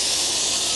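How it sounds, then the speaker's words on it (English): A carpet cleaner hose sprays hot steam onto a dirty couch, a loud, close, continuous hiss with no talk over it. "It's hot steam coming out."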